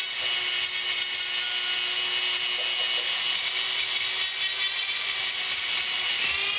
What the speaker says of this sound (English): We're just going to grind a little groove there from our oil hole.